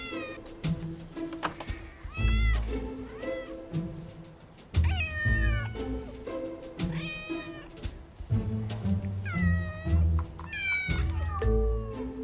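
Feral cats living on wasteland behind a house meow repeatedly, several overlapping calls with rising and falling tones and some drawn-out caterwauls, close and fairly loud over a low background rumble.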